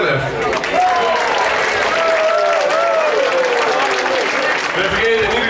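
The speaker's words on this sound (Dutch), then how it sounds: "Een hartelijk applaus voor jezelf." A crowd at a Dutch carnival ball claps continuously and loudly, with voices and calls carrying over the dense, steady applause.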